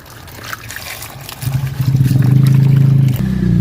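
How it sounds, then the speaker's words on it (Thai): Peeled guavas are rinsed in clean water, a close gushing trickle and splash that swells louder and steadier partway through before easing slightly. "หลังจากที่ปอกแล้วก็นำมาล้างน้ำสะอาดครับเพื่อนครับ"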